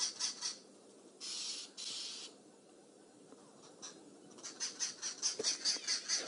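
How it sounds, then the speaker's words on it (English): Several wild birds, including arrow-marked babblers, give harsh squawking alarm calls at a female boomslang snake in the African bush, in bursts of scolding chatter and rapid repeated notes, fairly near and moderately loud with no talking. "So all these birds have come to alarm call at the snake"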